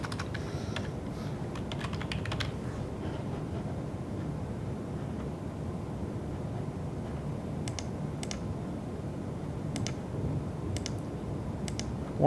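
Typing on a UK computer keyboard, a quick run of close, light key clicks at the start and then scattered isolated taps further on over a low room hum.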